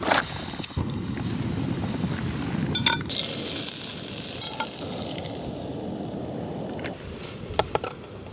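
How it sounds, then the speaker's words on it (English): Pancake frying in butter in a pan at a snowy campsite, a steady close sizzle with occasional clinks and stirring scrapes, no talk. "I'll get some extra butter onto this first pancake and get it melting onto it."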